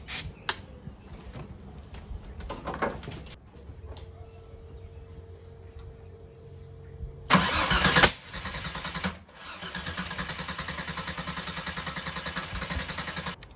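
A Mercedes C32 engine cranks and fails to start, with short starter bursts followed by a louder cranking spell and a steady whirring hum, close by with no talk.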